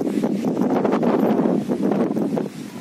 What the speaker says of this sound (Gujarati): પવન હે ને ભાઈ ફૂલો ફૂલ હે અત્યારે